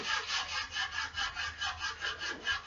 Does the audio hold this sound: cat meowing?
no